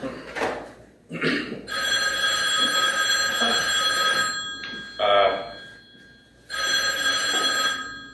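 A telephone bell rings in repeated bursts, each a bright, shimmering trill lasting a couple of seconds with short pauses between, close and loud, with faint voices in the gaps.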